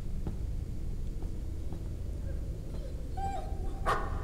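A dog in the horror video game Layers of Fear gives a few short yips and whimpers over a dark, low ambient drone, ending in one sharper, louder bark near the close.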